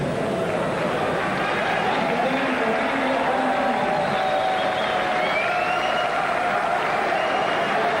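Loud, sustained applause and cheering from a big arena crowd as a super heavyweight lifter steps up for his final clean and jerk at the 1992 Olympics, a dense steady roar with voices mixed in, continuous across the whole stretch.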